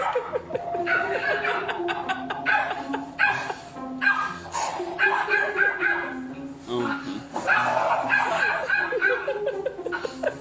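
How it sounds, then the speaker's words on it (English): Dogs barking during a prank in which an owner scares them, mixed with chuckling laughter and voices throughout, busy and fairly loud. "I featured several clips of dogs accidentally scaring their owners."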